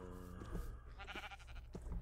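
Sheep bleating in the Minecraft video game, a close wavering bleat that returns briefly, heard over a low steady game background.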